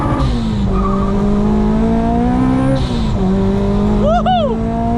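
A modified 350 hp 8th-generation Honda Civic Si accelerates hard in first gear on a freeway, its engine loud and rising in pitch with a gear shift midway and whooshing turbo or blow-off chirps near the end.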